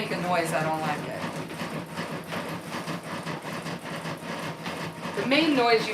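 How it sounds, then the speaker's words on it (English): Embroidery sewing machine stitching, its hoop knocking against the machine in a rapid mechanical clatter that runs steadily throughout, with a person talking over it. "The main noise you hear is the hoop hitting the machine."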